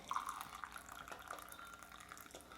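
Kenya AA coffee is poured into a cup with a soft, continuous trickling and light splashes, quiet and close.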